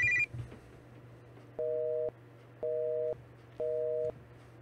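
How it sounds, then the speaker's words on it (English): Telephone busy signal from the hospital line in the RPG Maker horror game Third Exit: three evenly spaced half-second tone bursts with short gaps, clear over a low steady hum after a brief click at the start. "Damn, the hospital phone line is busy."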